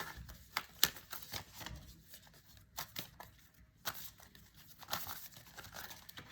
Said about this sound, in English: I've been shuffling the cards this way